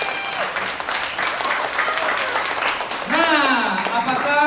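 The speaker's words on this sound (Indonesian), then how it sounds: "Kita tepuk tangan dulu untuk Tuhan Yesus." Children in a church Easter service clap their hands together, a steady mass of small claps, while an adult voice and bright singing or shouted voices rise over it toward the end.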